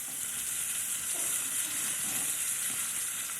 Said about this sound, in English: The browning of the meat takes about 8 to 10 minutes.